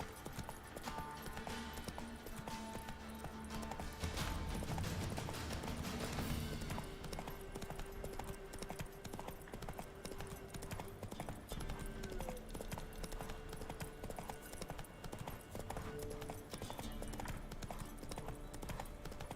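Horse hooves clip-clop steadily on a road in The Witcher 3, a continuous trotting rhythm under game ambience and faint background music.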